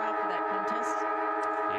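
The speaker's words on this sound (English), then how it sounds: "the siren is going to help because he can now have a half-time break" Half-time siren at an Australian rules football match, a steady sustained horn-like tone held throughout, with commentary voices over it.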